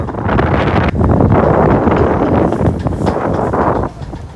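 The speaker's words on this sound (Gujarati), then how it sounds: "ખૂબ જ પવન ફૂંકાય છે અહીં." Strong cold wind buffets the microphone on a green hilltop at Kadamgiri in Gujarat, a loud continuous roar with gusty surges and no talk.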